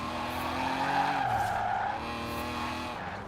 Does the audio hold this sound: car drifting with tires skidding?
yes